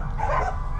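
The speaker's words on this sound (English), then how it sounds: "They, you always know when something's going on because they're barking." A single short greyhound bark or yip at a racing kennel, close and fairly loud, over low background rumble.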